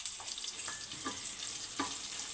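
Mango pieces, shallots and turmeric water frying in a pan, a soft steady sizzle broken by a few light stirring scrapes, faint and close.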